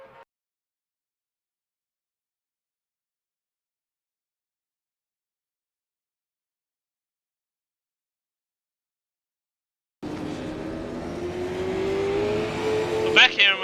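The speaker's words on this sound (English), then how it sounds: "we've got Benjamiam D'Alia, who's the first car on track" Super 2 race car on track at the 2020 Darwin Super Sprint: after a long silence, a loud engine roar starts abruptly and builds steadily near the end, with a voice over it.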